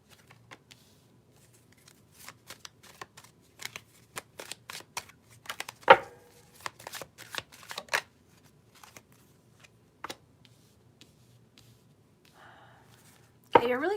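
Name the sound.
tarot cards being shuffled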